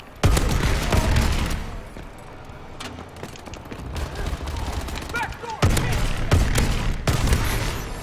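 Gunfire from the Call of Duty video game comes in dense, rapid volleys at close range over a steady game-sound backdrop, with brief lulls between bursts.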